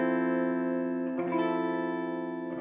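A sustained electric guitar major 7th chord rings out with heavy effects, restruck once midway and left to ring steadily on its own.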